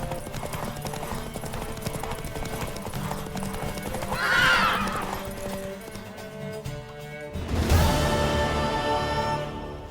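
Horse hooves clop steadily under music and scattered voices, with a horse whinnying midway and a louder burst of sound near the end.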